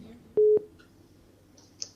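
A phone call cut off mid-conversation, leaving a short steady electronic busy tone of two beeps close to the line, followed by faint background hiss and a brief click.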